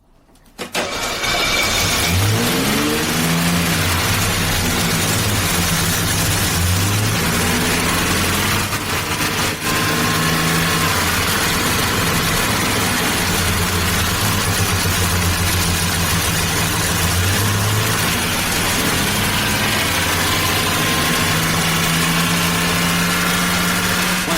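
An old Mercedes W123 with a carburetor, left twenty years in a damp garage, cranks briefly and catches, then settles into a loud, steady idle with slight wavering in speed.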